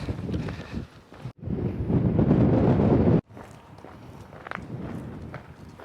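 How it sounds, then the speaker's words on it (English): Strong wind buffets an exposed Pennine Way hillside between Bellingham and Byrness, one loud roaring gust lasting a couple of seconds between quieter stretches, with footsteps crunching along the path. "It is quite blowy. Certainly the strongest winds of the trip so far."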